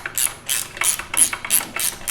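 A Torx driver ratchets a crash bar bolt on a Yamaha XT1200 Super Tenere: seven crisp, evenly spaced clicking strokes, close and steady.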